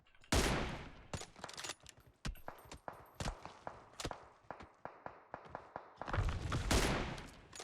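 Gunfire in PUBG Mobile: loud bursts of rapid shots and scattered single cracks, close and punchy, with short gaps between volleys and no voices over them.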